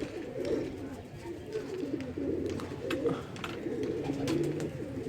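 Pigeons cooing close by in a loft while a man handles them, with soft murmuring coos repeating over a steady background and occasional movement noises; speech is also present.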